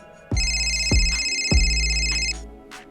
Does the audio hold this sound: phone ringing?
yes